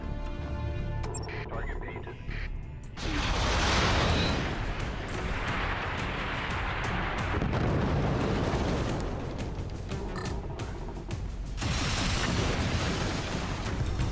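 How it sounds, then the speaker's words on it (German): An explosion in Fortnite rings out as a loud broadband blast that cuts through the game audio, followed by rumbling noise and further bursts, while a player talks throughout. "Warum explodiert der Junge einfach?"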